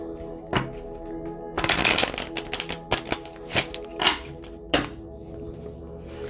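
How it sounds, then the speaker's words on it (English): Tarot cards are shuffled close up, with a burst of riffling followed by a series of crisp slaps and taps as the deck is squared, over a faint background hum. "One more shuffle."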